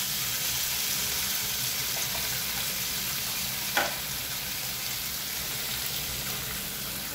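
An egg goes into a pan of lightly fried onion and capsicum, bringing a steady, loud sizzle throughout and a single sharper crackle or tap partway through.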